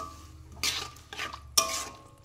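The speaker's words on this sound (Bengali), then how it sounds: "এইভাবে আরও 2 মিনিট ভেজে নেব।" Spiced masala with vegetables for a small-fish curry, loosened with a splash of water, fries in a pan while a spoon stirs it in three distinct scraping, hissing strokes over a low steady background.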